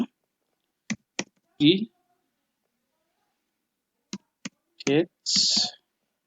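Mouse clicks and keyboard taps on a Windows laptop or PC come as a few crisp, isolated clicks in two short pairs, with brief stretches of speech between them.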